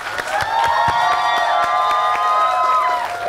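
A loud, dense crowd at the final stage of a televised music competition, cheering and shouting with scattered claps, a sustained roar of voices rising and falling over a few seconds.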